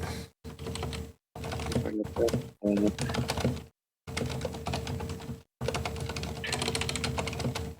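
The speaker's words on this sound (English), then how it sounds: "I think just banging the keyboard." Rapid, uneven clatter of keys being banged on a computer keyboard, close and loud, in bursts separated by short pauses.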